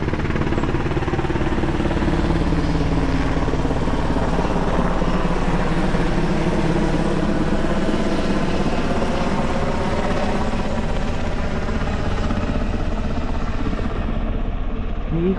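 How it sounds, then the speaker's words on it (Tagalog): A helicopter circles low overhead, its rotor and engine producing a loud, continuous droning thrum that stays steady and close throughout, with a voice talking faintly beneath it. "Wala bang problema itong helicopter na ito?"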